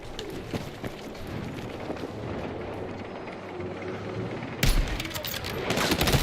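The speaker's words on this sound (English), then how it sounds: "Who is this shooting grenades?" Repeated grenade launches and blasts in a multiplayer shooter video game, a dense, loud barrage of thuds and booms filling the whole stretch, with a sharper, heavier burst near the end.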